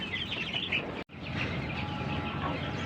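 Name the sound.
Pelung chicken chicks chirping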